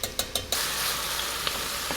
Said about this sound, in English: Next, I'm going to add a heaping tablespoon of minced garlic.